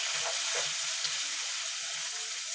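Garlic fries in cooking oil, giving a soft, steady sizzle and crackle at low volume with faint clinks and stirring in the background.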